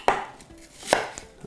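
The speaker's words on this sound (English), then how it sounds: "I'll just cut the core out" A knife cuts the core out of apple quarters on a board, for an apple and damson crumble: two sharp close chops about a second apart, then a few lighter taps.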